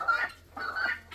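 Chickens in a large backyard flock cluck nearby in two short bursts of nasal calls, heard alone without talk.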